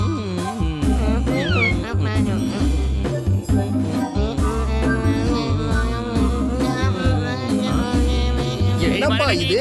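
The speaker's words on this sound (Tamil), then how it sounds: "அங்க பாரு, கரண்ட் கம்பி மேல ஒரு பூனை நடந்து போயிட்டு இருக்கு" A cartoon cat meows while walking along an overhead power line, its short rising and falling cries mixed into a busy, loud soundtrack of music and voices.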